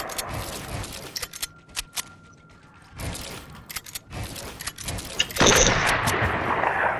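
Gunfire in Fortnite: sharp individual shots and quick bursts crack intermittently, then build into heavier, sustained firing near the end.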